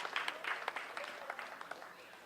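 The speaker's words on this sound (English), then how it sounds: "A big round of applause to our sound engineer, Javed Wahidji, and his apprentice," Audience applause for a sound engineer at a cultural program, a fairly quiet, distant patter of clapping with scattered individual claps standing out.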